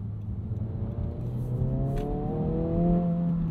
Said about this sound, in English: Look how fast that rev matching reacts.